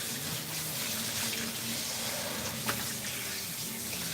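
Steady, close water spray runs without pause as a Persian cat is rinsed during a grooming session for a dragon cut, with a faint low hum underneath.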